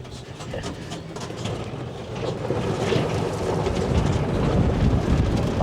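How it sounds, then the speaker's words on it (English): A strong gust of wind roars in, a broad rushing noise that swells louder over several seconds and stays heavy to the end. "Oh man, that's a gust of wind."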